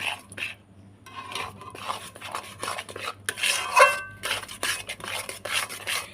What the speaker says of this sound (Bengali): একটু সুজিটা দিয়ে একটু নেড়ে নেবো।